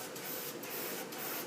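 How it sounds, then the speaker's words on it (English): Duracoat coating sprays from a nozzle onto a part in short hissing bursts, three quick pulses over a faint, continuous airy spray. "So let's go ahead and spray in there."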